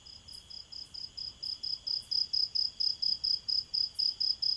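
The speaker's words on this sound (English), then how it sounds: "the clicking of a cricket coming nearer and nearer" A cricket chirping in a steady, rapid pulse of short clicks, growing gradually louder as if approaching, alone against quiet.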